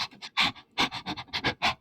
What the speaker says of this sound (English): That's panting. That's not breathing.